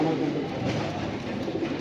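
Racing pigeons coo in low, rolling murmurs close by at a breeding farm, with a faint voice mixed in.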